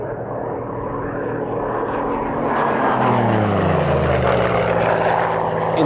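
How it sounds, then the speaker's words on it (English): A Bell P-63 King Cobra fighter displays at the 1996 Duxford airshow. Its loud, steady piston-propeller drone swells and shifts pitch as it passes, with no talk. "The final American fighter to display is the Bell P-63 King Cobra."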